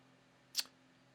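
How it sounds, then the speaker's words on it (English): A single faint, sharp click stands out once against a quiet electrical hum. "Please register my mouse click when I press it."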